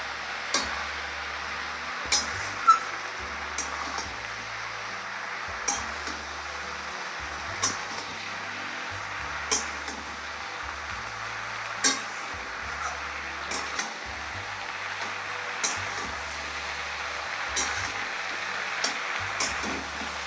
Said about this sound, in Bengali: তো এইভাবে কিছুক্ষণ আমি নাড়িয়ে চাড়িয়ে দেবো।